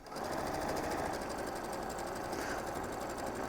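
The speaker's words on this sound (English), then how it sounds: "I am looking right here at that blue line as I'm sewing along." A sewing machine stitches along a marked blue line on fabric for a drawstring bag play mat, a loud, continuous rapid mechanical whirr with even needle rhythm throughout.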